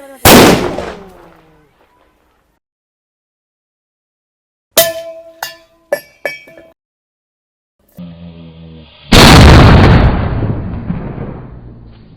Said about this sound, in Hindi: इन शुगर पटाखे से कुछ धमाके हुए और कुछ नहीं भी हुए